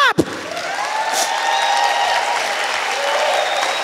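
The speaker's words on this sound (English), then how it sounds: "Give God a good clap." A church congregation at a Sunday service breaks into loud, sustained clapping and applause, opening with a sharp bang before many hands fill the room in an even, continuous wash.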